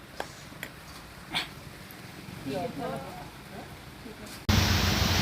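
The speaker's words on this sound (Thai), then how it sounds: "พี่น้องฝนตกอีกแล้วเด้อ" Rain falls at an outdoor home kitchen: light spatter and soft background sounds with a brief murmur, then a sudden loud, dense downpour rushes in and stays steady to the end.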